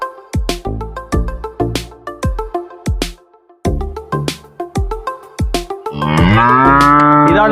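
Several cows moo in turn on a buffalo and dairy farm, a series of loud, drawn-out lowing calls close by, with a busier, overlapping burst of mooing at the end.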